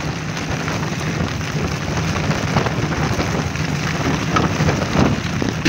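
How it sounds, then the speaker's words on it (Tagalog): Heavy rain pours steadily and densely close by, a constant wash of hiss and patter with no voices over it. "Lumakas naman yung ulan."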